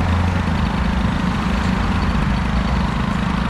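A tuned carbureted engine with a BOOST cylinder head, built as an air hybrid, runs close and loud, churning out a steady, buzzy drone with a slight vibrating throb.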